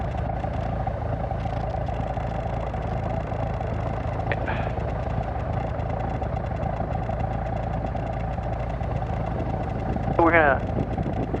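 Small airplane taxiing at a training airfield, its engine a steady loud drone running continuously, with a brief radio-like chirp near the end.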